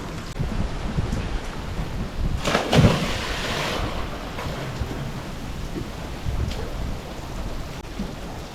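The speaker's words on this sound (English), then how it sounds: "Since it is raining pretty hard, I have plenty of water flow to remove the white chalky film" Heavy rain pours down on a sailboat in a storm, a dense steady hiss with wind rushing across it and a brief louder crack or rumble partway through.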